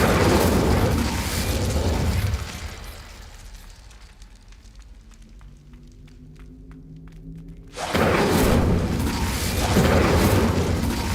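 The Incendio fire spell in Hogwarts Legacy goes off as a loud, booming whoosh of flame that fades to a quieter rumble, then a second fiery burst erupts.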